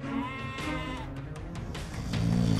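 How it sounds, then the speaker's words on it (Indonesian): A goat bleats in a wavering, crying call for its lost young, a few drawn-out quavering cries close by over a dense background. "Betapa kambing itu menangisi anak-anaknya yang malang."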